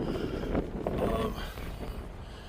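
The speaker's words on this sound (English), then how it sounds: "It's very windy up here." Strong gusting wind on the summit of Pillsbury Mountain in the Adirondacks, near a fire tower, buffets the microphone in low rumbling bursts, rising and falling without pause.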